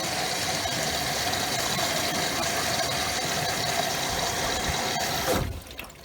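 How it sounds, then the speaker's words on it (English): A Maytag washing machine fills with water at the start of a normal wash cycle for medium-heavy soiled clothes, a steady loud rushing flow with a pump-like hum that drops off abruptly near the end. "And start off with the cold water. And now it's hot water."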